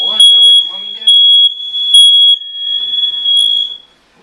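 A smoke detector shrieks with a piercing, steady high-pitched tone in loud pulses, while a voice and an adult's voice speak over the first part of it.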